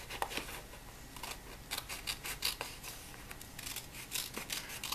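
Scissors snipping across paper check box strips for a planner, a quick series of sharp, close cuts with short pauses between runs.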